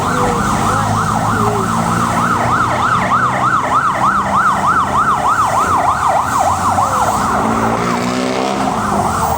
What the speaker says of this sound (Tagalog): May wangwang.